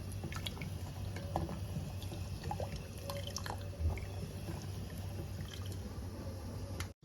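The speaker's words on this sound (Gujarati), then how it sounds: "ખાંડ ઓગળે ત્યાં સુધી આપણે દૂધને" Milk for dudh pak, with sugar stirred in, simmers in a pot with faint, irregular bubbling and popping over a low, steady background hum.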